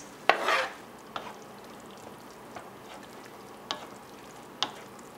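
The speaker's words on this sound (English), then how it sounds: "I'm just going to add the eggplant that we peeled." Peeled eggplant dropped into a cooking tomato mixture for baigan bharta, with one brief splashy hiss followed by a quiet simmer and a few sharp spoon clicks, close and without talking.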